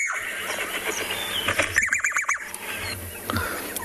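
Levaillant's cuckoo call played back from a phone on a South African morning safari: a rapid series of rising, chattering notes in the middle, moderately loud over outdoor background hiss.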